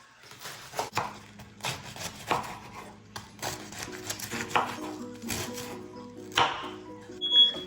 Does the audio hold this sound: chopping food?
yes